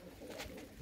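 Low, soft cooing from a Shah Akha pigeon, a short murmuring burst heard close by with no voices over it.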